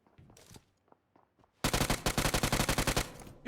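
Automatic gunfire in PUBG Mobile erupts after a few quiet faint taps, a loud, rapid string of close shots lasting over a second, then cutting off.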